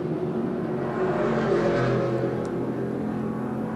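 Chevrolet Camaro Group C touring car racing at Adelaide in 1981, its big engine roaring loud and steady with other race cars, a rising surge mid-pass against broadband track noise.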